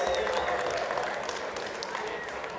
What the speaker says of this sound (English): Let's give those folks a big round of applause, please.